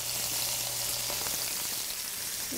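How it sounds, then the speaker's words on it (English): Chopped garlic sprinkled into a hot pan gives a steady, close crackling sizzle that holds evenly throughout, with no talking. "Now I'm also going to sprinkle in some garlic, which I have chopped up."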